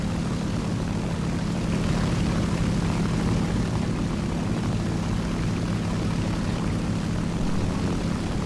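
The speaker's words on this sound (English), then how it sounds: "I don't think that's a friendly plane engine that I'm hearing." An enemy propeller plane's engine in the War Thunder video game drones loudly and continuously, a steady low hum that stays constant throughout with no talking.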